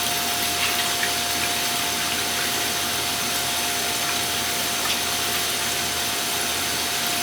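A pump transfers stout wort into a carboy on a homebrew day, giving a continuous, even, loud whine and hiss with a steady tone throughout and no speech.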